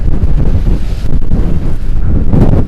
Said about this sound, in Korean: 아 바람 불고